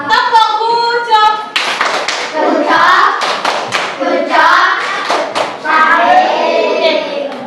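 Children in a classroom clap their hands together in a quick, loud burst after group presentations on regional foods at a cultural exhibition, with young voices speaking and calling out over the clapping.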